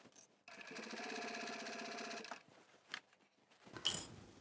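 A sewing machine stitches slowly around the curve of a small fabric pouch in one close burst of rapid, even clatter lasting about two seconds, followed by a short tap and a louder knock of handling.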